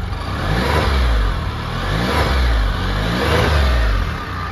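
A 2018 Can-Am Spyder RT three-wheel motorcycle engine revs up in neutral in several swells, a rough, chugging, tractor-like low rumble rising and falling close by, with no talking.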